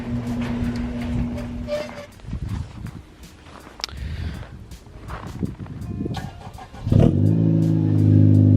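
After some quiet handling noises, a Honda Civic Type R fires up in frigid winter weather, its engine catching with a sudden loud roar and settling into a strong, steady idle close by.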